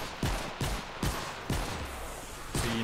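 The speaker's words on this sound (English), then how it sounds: "the longer you shoot, the more your cone of fire spreads out" Gunfire from a weapon in Fortnite: Save The World, five sharp shots spaced about half a second apart, loud and close with a short tail after each.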